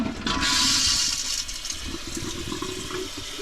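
An RV toilet flushes and drains, with a loud rushing surge at the start that tapers into a steadier gurgling trickle of water emptying from the bowl, close and alone.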